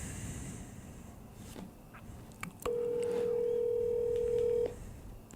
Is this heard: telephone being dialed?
yes